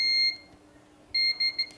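Beeping tones from a DIY 6283 audio amplifier circuit under test: a steady high beep, a short gap, then a few more clipped beeps in quick succession, fairly clear over a faint background hum.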